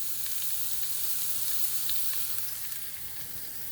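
Pork browning and caramelizing over high heat in a hot pan, a steady close sizzle and hiss running throughout with light crackle, no voices.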